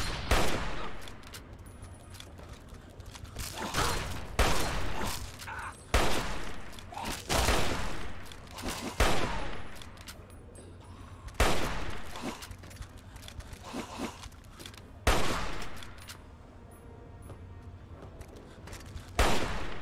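Repeated loud gunshots in Fallout 3, about a dozen sharp blasts spaced irregularly over a low ambient hum, some in quick pairs, with no voices.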